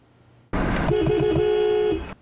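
A car horn sounds in a narrow lane where a white imported car is illegally parked blocking the way: one loud, sustained honk of about a second and a half after a brief engine noise, with quiet surroundings.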